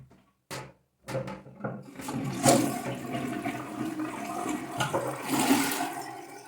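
A toilet flushing in an apartment bathroom during an inspection, a few short knocks at the start before a sustained, rushing gush of water refilling the bowl, close by and alone.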